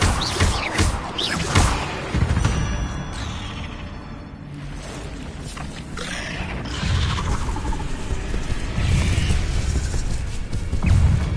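A levitation spell cast in the wizarding action game Hogwarts Legacy, heard as a loud magical whoosh with crashing, thudding impacts and rattling debris amid busy game sound.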